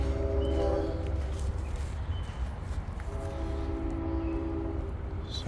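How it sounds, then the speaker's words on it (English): Train passing near a river trail, a low steady rumble with faint tonal hum of wheels and engine at moderate distance, continuous and fairly quiet throughout. "here comes another train"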